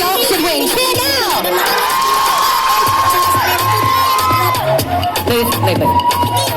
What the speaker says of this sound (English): If you think the sharks should win, cheer now!